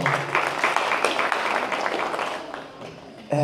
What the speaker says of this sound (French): Ouais, là vous applaudissez